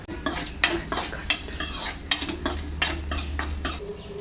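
Spiced tempering for a chicken and sorrel leaf curry crackles and sizzles in a pan while a spoon stirs and scrapes in steady, repeated strokes, close and clear with no talking.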